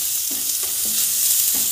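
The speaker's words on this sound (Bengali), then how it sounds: "দিয়ে আমি একসাথে করে এই কটাকে ভেজে নেব।" Salt, ground coriander and cumin powder fry in a wok for a vegetarian cabbage dish, giving a loud, steady close sizzle broken by several scraping stirs, with no talking.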